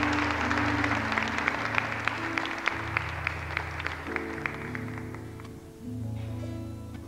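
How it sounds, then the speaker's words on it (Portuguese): A church congregation breaks into rhythmic clapping over a low sustained hum, claps landing in an even beat for several seconds before tapering off into quieter room sound. "Nós podemos aplaudir a palavra de Deus"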